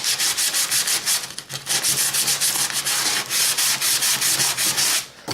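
Steady rasping hand sanding on a model railroad road surface, a close, loud run of rhythmic back-and-forth rubbing strokes with one brief pause and no talking.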